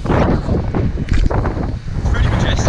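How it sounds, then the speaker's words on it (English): Strong, steady wind roars and buffets the microphone on the open deck of the tall ship Enterprize, a loud, continuous rush with gusty swells and no clear speech. "It's pretty windy too"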